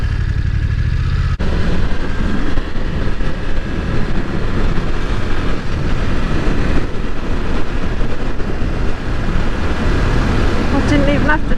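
A BMW F900R motorcycle engine pulls hard as the throttle is wound on while riding, a loud sustained drone mixed with wind roar, and the rider talks over it.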